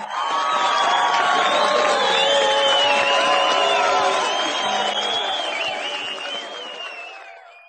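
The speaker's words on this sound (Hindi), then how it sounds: "तालियों से इन कलाकारों का स्वागत कीजिए।" An audience at a senior citizens' comedy stage program claps and cheers to welcome the performers, a dense, steady wave of applause with whoops and shouts that holds strong and then slowly fades toward the end.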